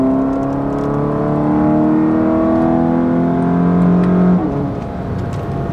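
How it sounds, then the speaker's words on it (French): Ford Focus ST with a 250-horsepower engine roaring loudly under full acceleration on country roads, a steady climbing intake and engine note heard up close that drops off sharply near the end as the gear changes. "c'est l'heure de faire crier l'intake"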